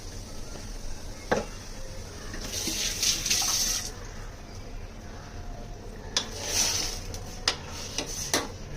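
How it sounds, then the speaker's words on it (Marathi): Water pours into a pot of cooking dal already seasoned with red chilli and salt, heard as two clear bursts of splashing, one early and one later, with faint kitchen clatter in between and no talking. "थोडंसं पाणी टाकून घेते."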